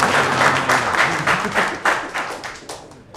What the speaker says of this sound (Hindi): सबसे पहले खुद के लिए तालियां मार लो